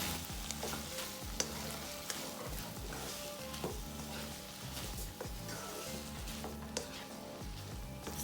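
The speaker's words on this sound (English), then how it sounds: "Stir in those 3, give it a good mix, and it's ready to be served." Minced chicken with red curry paste, long bean, kaffir lime leaves and big chili stir-fries in a pan, a steady quiet sizzle broken by repeated scraping and tapping of the utensil.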